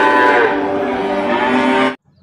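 A cow gives a single long, loud, close moo that holds steady for about two seconds before stopping abruptly, leaving near silence.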